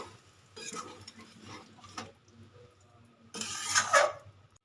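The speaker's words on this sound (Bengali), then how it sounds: "সেই জলটা দিয়ে দেব দিয়ে একটু নেড়ে চেড়ে নেব" A spoon stirs a spiced gram flour curry after boiled water is poured in. Scraping comes in irregular close bursts, the last one louder, over a faint simmer.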